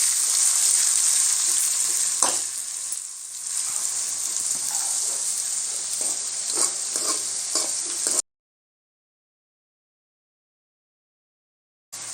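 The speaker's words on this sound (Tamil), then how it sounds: "சேர்த்து நல்லா வதங்கணும் கொஞ்சம் வெங்காயமும்." Chopped onions sauté in a hot pan for a mushroom momo filling, giving a steady, close, dense sizzle with faint stirring scrapes for about eight seconds before it cuts to silence.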